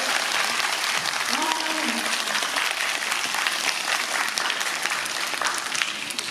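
Audience applause for actor Yoon Jung-hoon at a film screening Q&A at the Busan International Film Festival; a dense, continuous roar of many hands clapping that holds steady throughout.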